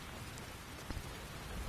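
Steady rain falling in the Skyrim video game, an even wash of patter that stays at a constant level for the whole short stretch, with no voices.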